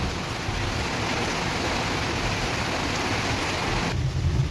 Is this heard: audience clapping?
no